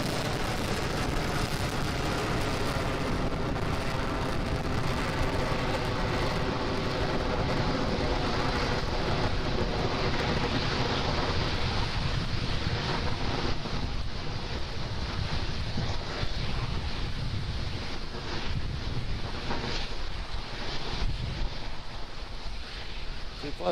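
Loud, continuous broadband roar of a SpaceX Falcon 9 rocket at liftoff, a steady rumbling wash that holds throughout with a windy, surf-like texture and no pauses.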